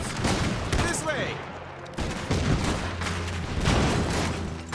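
Russian standard infantry firing shotguns in the Iron Harvest strategy game, a dense, loud volley of overlapping gunshots and heavy booms in a battle, continuous throughout with no pauses.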